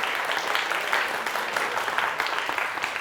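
An audience at a student book-quiz final applauds a contestant with dense, continuous clapping that stays steady for the whole stretch, with no talk over it.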